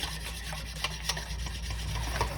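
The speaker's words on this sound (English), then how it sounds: "this is all I'm gonna be doing to the cream, guys. Just whisking it" Cream whisked by hand in a bowl for peanut butter ice cream makes brisk, continuous scraping and swishing strokes close by, steady and fairly loud, with no talking.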